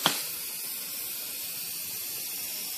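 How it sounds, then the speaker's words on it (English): An aerosol can sprays at a large neon blue spider, giving one close, continuous hiss that starts with a brief burst and then holds steady without speech. "Spray him to death."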